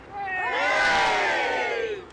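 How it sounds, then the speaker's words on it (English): A protest crowd cheers and yells together, a swelling burst of many raised voices that rises quickly, holds loud for about two seconds, then eases slightly at the end. "OK, everybody, give us a cheer then"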